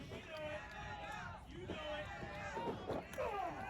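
Wrestling crowd jeering and booing a wrestler named Kwan at a live pro wrestling show, a steady roar of voices under continuous commentary from announcers.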